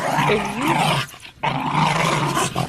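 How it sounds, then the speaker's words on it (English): A dog growls and barks close by, with a short pause partway through before the rough, snarling sounds resume. "if that dog doesn't shut up, you know what?"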